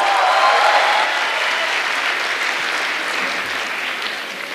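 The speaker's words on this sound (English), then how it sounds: "A big round of applause for them" Steady audience applause for the accompanists on stage at a speakers' conclave, dense clapping filling the space and tapering slightly toward the end, with no voices over it.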